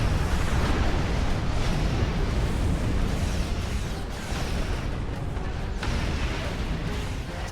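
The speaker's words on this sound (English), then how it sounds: "we've set our phasers to emit small explosions to help scare them off." A continuous roaring rumble of blasts and crackling bursts from phasers in Star Trek Online, loud and dense throughout, like sustained sci-fi weapon explosions with no pauses.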